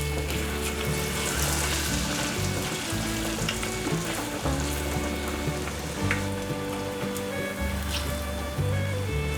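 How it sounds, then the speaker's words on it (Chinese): Batter-coated fresh shiitake mushrooms deep-frying in hot oil, a steady close crackling sizzle that runs unbroken throughout, with no voices. "把鲜香菇放进来，裹上面糊，放入油锅炸"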